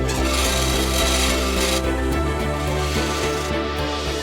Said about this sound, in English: You stand at a bench with a vise, a hacksaw and a file, and you literally cut the fittings out one by one.